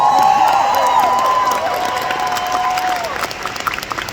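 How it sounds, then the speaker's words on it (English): Loud audience applause with cheering and whoops at a fan convention panel, continuous clapping that slowly thins toward the end. "Come on, applause for that."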